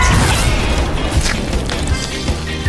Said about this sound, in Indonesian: Ini akan meledak.